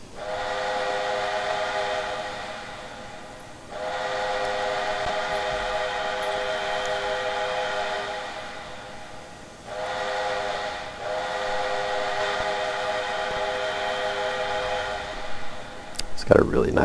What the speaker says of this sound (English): Got a really nice sounding whistle.